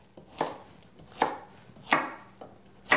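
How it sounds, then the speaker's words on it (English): A knife chops four carrots into pieces slightly bigger than bite-size for a beef and barley stew, making four crisp, evenly spaced thuds on a cutting board with quiet pauses between them. "you're going to chop them up into slightly bigger than bite-sized pieces"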